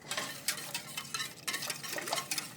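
Chocolate gravy being whisked in a pan, a Southern-style preparation served with biscuits; a steady series of soft scraping and stirring strokes up close, with no voices.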